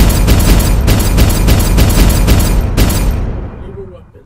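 Rapid gunfire at a firing range in a Halo-themed stop-motion animation: a loud, near, continuous stream of bursts that stops abruptly and leaves a fading echo.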